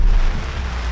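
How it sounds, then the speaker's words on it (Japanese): Heavy rain from a sudden downpour pours onto a camping tent as a dense, loud, steady roar close by. "雨がやばい、雨の音が"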